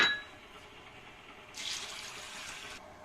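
Water runs into a vessel as lentils are rinsed in a kitchen, a soft steady pour that swells louder midway, then eases, with no talking.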